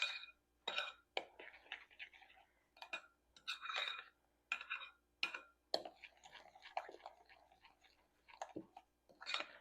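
Dessert batter being stirred in a bowl, with irregular clinks and scrapes of a utensil against the dish in short bursts separated by quiet pauses, close and fairly faint.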